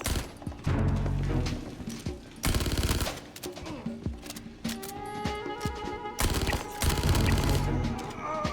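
Rapid bursts of LH86 pistol gunfire from the Star Citizen video game, firing into heavily armored NPCs, loud close volleys broken by short gaps, with booming thuds and ringing tones between them.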